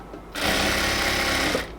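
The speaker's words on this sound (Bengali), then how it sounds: "তারপর সেলাই করব।" Sewing machine stitching a luxury cotton dress, one steady, loud run of rapid stitching that starts abruptly and stops just as sharply, heard up close and alone.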